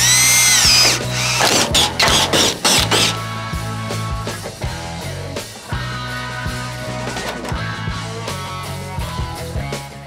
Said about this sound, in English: We're gonna drill the holes, get them bolted up, and then it's just some adjustments.